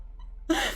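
A single sharp sneeze bursts out close after a quiet moment over a low background hum.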